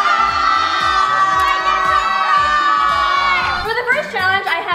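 A group of young people screams and shouts together at full volume during a challenge game, a loud sustained crowd yell that breaks into scattered whoops near the end.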